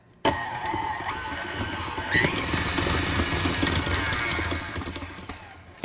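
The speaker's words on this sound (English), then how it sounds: "Always make sure to lock the machine, and then we're going to cream the butter." Stand mixer with a tilt head creaming soft unsalted butter for a white cake, its motor starting abruptly and then whirring steadily close by, with the beater knocking and slapping against the bowl.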